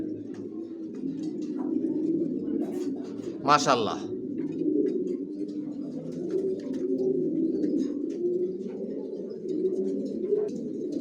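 Racing pigeons cooing softly and repeatedly nearby in a loft, with a brief flutter and chirp; a person speaks a short word over the birds.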